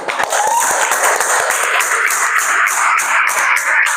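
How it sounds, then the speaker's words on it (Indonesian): A class of students applauds a classmate in a classroom, a steady, loud wash of many hands clapping at once for about four seconds with no talk over it. "tepuk tangan buat Erlangga"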